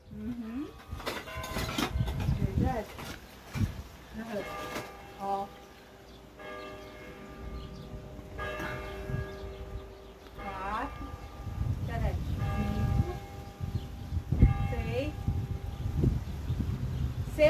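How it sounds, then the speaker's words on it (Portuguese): A small village church bell rings at six o'clock in the evening, repeated strokes heard at a middle distance beneath ongoing conversation in a yard being cleaned. "Olha o sino da igrejinha daí."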